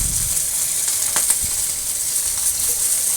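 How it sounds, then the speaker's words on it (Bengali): Mustard sauce comes to a boil in a pan with fried hilsa and boal fish, a soft continuous sizzle and hiss with a few small pops and a light clink, close and without talk. "সরিষার বলক এসে গেছে।"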